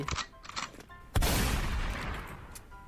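Shots from a video game gun: a couple of light pops, then a single loud nearby blast with a long booming tail, and no talking.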